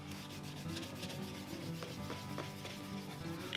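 Steady close rubbing on leather shoes as a wax finish is stripped off, a continuous soft scrubbing texture with faint repeated strokes and no voices.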